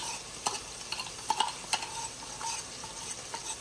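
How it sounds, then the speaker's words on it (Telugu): A spice paste with shahi jeera fries in a pot, making a soft steady sizzle broken by repeated light spoon taps and stirring clinks, fairly quiet and without voices. "ఇది మంచిగా ఇప్పుడు ఫ్రై అవ్వాలి."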